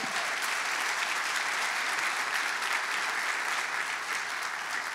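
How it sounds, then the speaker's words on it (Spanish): A church congregation applauds during a service, giving dense, loud, sustained clapping that fills the room evenly for several seconds without any talk over it. "Dale un fuerte aplauso al Señor."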